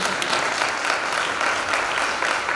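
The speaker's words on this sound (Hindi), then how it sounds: "एक बार ताली बजाएंगे पास्टर रमेश के लिए" Applause from a church congregation at a Christmas celebration, steady and dense, filling the room for a few seconds without any speech over it.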